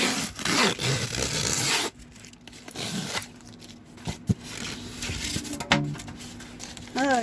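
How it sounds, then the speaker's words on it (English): A seafood delivery package being unwrapped, with crinkly plastic and tape rustling, scraping and tearing in short irregular bursts close by, punctuated by a few sharp rips. "And apparently, I have some more unwrapping."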